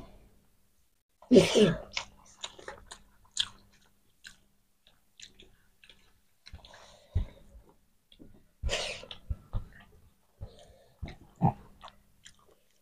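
Soft, close chewing and biting sounds come from someone eating fish curry, with faint breaths and small mouth noises in a quiet room.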